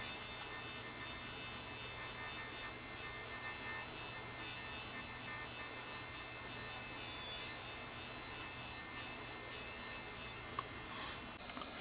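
A Sony DCR-TRV340 Digital 8 camcorder plays a tape with clogged heads while its head drum spins at 4,500 RPM, giving a steady, faint electric buzz and whir that holds unbroken throughout, with no talk.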